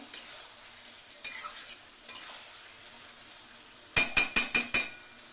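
Spoon stirring and scraping masala for chicken and potato curry in a pan, a soft sizzle throughout broken by several scrapes, then a quick run of five sharp metallic clinks near the end.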